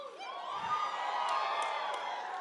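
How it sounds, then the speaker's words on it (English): A crowd at a Bernie Sanders campaign rally in Sioux City cheers and whoops steadily, a dense roar of voices that holds loud for a couple of seconds with a few sharper shouts rising above it. "Oh my God, look at this crowd."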